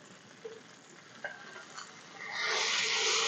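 Tilapia fish pieces sizzle in a frying pan, with a couple of soft clinks as a spatula turns them, before the frying hiss swells loud and steady near the end.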